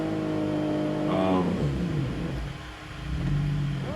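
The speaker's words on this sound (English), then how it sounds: "I'm doing third gear here, takeoff, trying to get it rolling. Really struggling." A vehicle engine revs in third gear while struggling for traction on ice under snow in Wyoming, with a steady loud rumble throughout and a pitch that rises and dips as the throttle changes.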